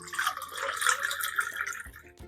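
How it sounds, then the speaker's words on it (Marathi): Water pours steadily into amla syrup for about two seconds, a close, continuous splashing trickle that then stops abruptly. "त्याच्यामध्ये मी पाणी टाकणार आहे"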